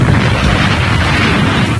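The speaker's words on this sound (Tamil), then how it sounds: "இந்த பவுடர் எப்படி வெடிக்க போகுது?" A loud, sustained cartoon explosion of noodle masala powder, a dense booming roar that fills the moment with no speech over it.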